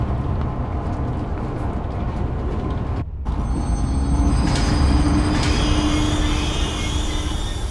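A virtual train in the horror zoo game ZoonChosis starts its ride, a steady rumbling rail noise that swells after a brief dip, with a faint rising whine and tonal squeal layered over the continuous roll.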